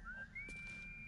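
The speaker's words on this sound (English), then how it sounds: "is this you whistling, or did they patch another whistler in?" A Baldur's Gate 3 character whistles the game's theme in the camp: a thin, clear rising tune with one long sustained note, fairly quiet over a low steady background hum.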